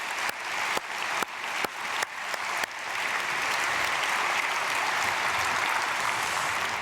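A church congregation claps for its children at a morning prayer service, a few loud individual claps at first quickly swelling into dense, sustained applause that fills the room.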